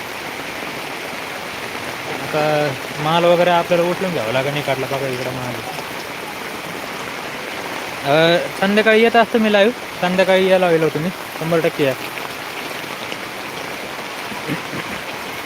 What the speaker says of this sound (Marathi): पाऊस बघा पाऊस लय जोरात पाऊस